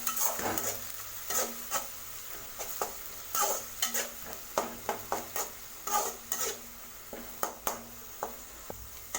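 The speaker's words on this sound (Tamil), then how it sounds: "இஞ்சி பூண்டு பேஸ்ட்டோட பச்சை வாசம் போகிற அளவுக்கு நம்ம நல்லா வதக்கி விட்டுக்கோங்க." Ginger garlic paste sautéing in hot oil for mutton keema vermicelli biryani, with a steady sizzle broken by repeated scraping stirs of a spoon against the pan, close and fairly loud, with no talking.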